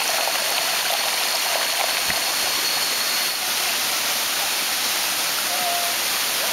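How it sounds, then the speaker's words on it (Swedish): Steady rushing water roars continuously, a broad, even hiss of a waterfall with no break, heard up close. "Vi har äntligen nått högst upp på vattenfallet."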